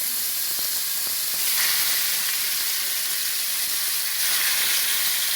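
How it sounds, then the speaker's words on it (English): Beef sizzling hard in a hot pan of extra virgin olive oil for a brown stew, a steady loud hissing fry that swells briefly partway through. "that brown stew makes it really, really sizzle"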